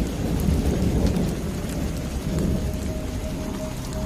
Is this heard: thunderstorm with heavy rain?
yes